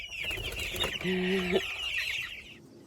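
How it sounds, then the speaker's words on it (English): Meat chickens cluck and a brief burst of wing flapping comes from close by, with a soft hum in the background. "I got to get these meat chickens out of here"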